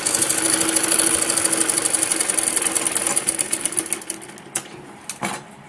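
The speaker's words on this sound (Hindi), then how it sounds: "इस पे इसी तरीके से पूरे पे सीधी सिलाई लगा लेंगे।" A sewing machine runs a straight seam through buckram layered with fabric for a Patiala salwar, a rapid, evenly pulsing stitch close by that slows into separate thumps near the end.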